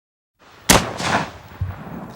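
Homemade 50mm muzzle-loading cannon fired at an outdoor fair, one sharp boom followed by a rolling echo and a smaller report, heard from a moderate distance with no voices.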